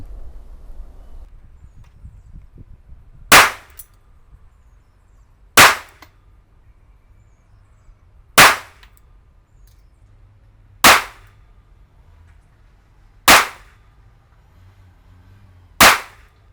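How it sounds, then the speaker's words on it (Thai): Rock Island pistol fired at targets 20 metres away at a shooting range: six sharp, loud, close shots, evenly spaced about two to three seconds apart, each with a quick decay into near silence. "ลองยิงดูที่ระยะ 20 เมตรนะครับ เริ่มจากล็อกไอแลนด์ก่อน"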